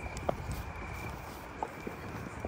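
A horse's hooves clip-clop on a night ride, a few sparse, fairly faint steps spread over a quiet, hissy background.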